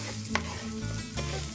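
Rice being stirred and toasted over medium heat in a frying pan for Spanish rice, giving a low steady sizzle with a few soft scraping stirs close by and no talking.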